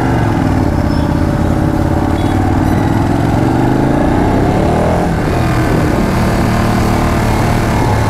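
A superbike with a full exhaust system rides at speed, the engine droning loud and close with a constant heavy roar and a brief pitch sweep as revs change, no voices.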